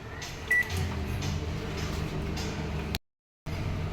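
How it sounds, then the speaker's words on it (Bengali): Microwave oven running while heating a curd cake, a steady low hum with a short beep near the start, then a brief gap of silence before the hum resumes. "এইবার আমি মাইক্রোওভেনে দেব।"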